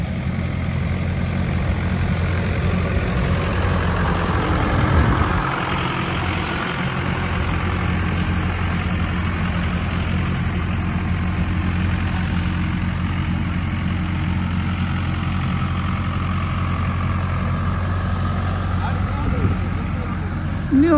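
A farm engine runs steadily at raised throttle with the accelerator held up, a loud continuous drone with low rumble throughout, unchanged for the whole stretch.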